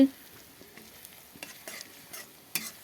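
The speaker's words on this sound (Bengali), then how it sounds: "এখানে কুচনো পেঁয়াজগুলো এখন তেলের মধ্যে দিয়ে দিলাম। পেঁয়াজটা লাল করে ভেজে নেই" Chopped onions frying in hot oil in a pan, a soft steady sizzle with occasional stirring scrapes and small clinks, close and fairly quiet, no talking.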